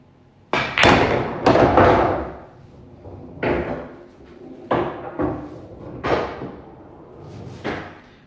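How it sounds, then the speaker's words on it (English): Pool balls strike and clack during draw-shot practice at a billiards table, a series of loud close knocks with ringing tails, roughly six or seven hits spaced irregularly. "As a beginner, that's a pretty far draw shot."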